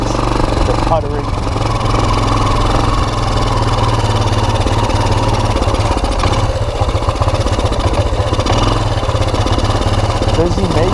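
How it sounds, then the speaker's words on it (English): A fire-damaged 2001 Kawasaki Bayou KLF 300 ATV engine puttering and sputtering as it runs out of gas, a loud, close, steady mid-pitched drone that continues throughout with slight unevenness. "I'm out of gas. That's what that is. The puttering."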